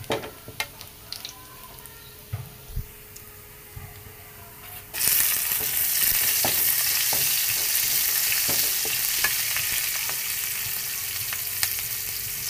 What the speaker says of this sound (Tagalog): Mag-isa na po tayo ng sibuyas.